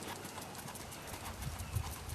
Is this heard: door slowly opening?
no